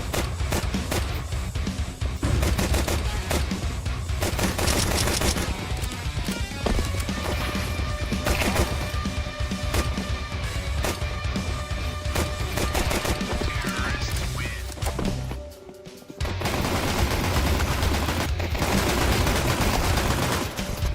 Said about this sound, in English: Guns blazing, Dooley's doing their work